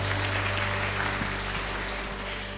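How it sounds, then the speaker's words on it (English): Audience applause at a conference keynote, a steady wash of clapping that holds at an even level over a low hum, without speech. "Let's give her a round of applause."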